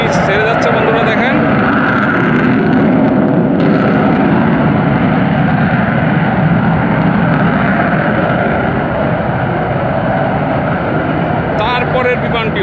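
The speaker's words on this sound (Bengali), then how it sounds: "বিশাল আওয়াজ, বিশাল শব্দ করে বিমানগুলা চলে গেল।" Two fighter jets, an F-7 BGI and a MiG-29, pass overhead as a loud, sustained broadband engine roar that holds steady throughout, while an excited voice keeps talking over it.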